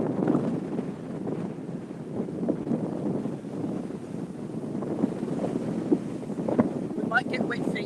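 Steady gusty wind buffets the microphone throughout, a constant low roar with occasional stronger gusts, while a faint voice comes through now and then.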